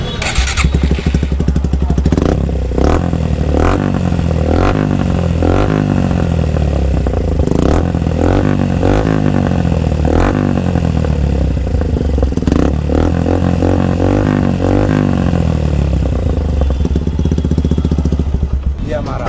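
A Suzuki Gixxer SF 150 motorcycle with an aftermarket exhaust fitted with a dB killer, idling loud and close with a steady bassy thrum, blipped repeatedly into sharp revs that fall back to idle.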